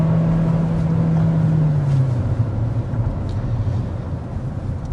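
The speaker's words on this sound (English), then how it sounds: "as I accelerated hard there" A 2025 Hyundai Santa Fe hybrid with a six-speed automatic accelerates hard. A loud steady cabin drone carries a tone that drops in pitch around a gear shift, and rumbling road noise continues afterward.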